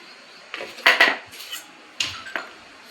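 Metal kitchen tongs for gripping a wok clank and scrape against the pan in a few sharp, close knocks, spaced irregularly with quiet gaps between them.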